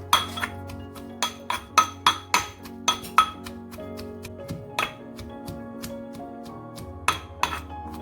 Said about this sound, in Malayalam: കൊഞ്ച് നമുക്കിനി ഈ ഇടികല്ലിലേക്ക് ഇട്ട് ഒന്ന് ചതച്ചെടുക്കാം.